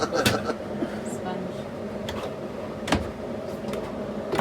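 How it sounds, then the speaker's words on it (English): Cabinet doors inside a new Jayco RV are pushed shut one after another, giving a few sharp separate clicks and thumps of latches catching, with quiet room sound between them. "just showing that all the cabinets are catching and latching like they should"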